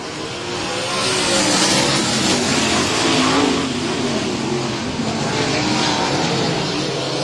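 A pack of sprint cars roars off at the green flag of a Bandits Outlaw Sprint Car Series season opener at Heart O' Texas Speedway, a loud sustained engine din that swells and holds without talk.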